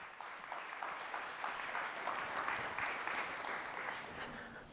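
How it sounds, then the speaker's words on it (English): Steady applause from an audience, moderately distant and even, holding at a constant level throughout. "give a warm round of applause to Veronica Chambers and David Lammy."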